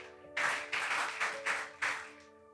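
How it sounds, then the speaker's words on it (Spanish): A church congregation claps in a burst of applause lasting about two seconds, rising in several pulsing swells over a sustained organ or keyboard chord, moderately near and fairly loud. "¿Cuántos pueden dar un fuerte aplauso al Señor?"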